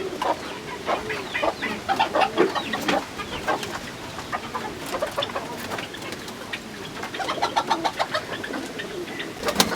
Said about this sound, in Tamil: இந்த கோழியெல்லாம் பாருங்கள்